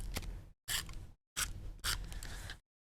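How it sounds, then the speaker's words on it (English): A tape runner pressed along glossy card stock, four short scraping, tearing bursts with brief silent gaps between them, close and fairly quiet. "work the tape runner"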